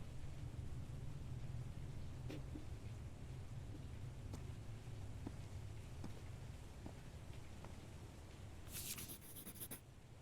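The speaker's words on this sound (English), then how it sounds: "I mean, it's raining here." Steady rain hisses in the video game Call of the Sea, a constant wash of falling water with a few faint ticks, soft and ambient with no talk.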